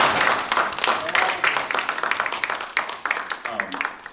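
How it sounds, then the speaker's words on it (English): Applause from an audience at a Georgia Republican party forum, a dense patter of many hands clapping at close range for about four seconds, with voices mixed in beneath it. "I'm gonna say we clap that, guys."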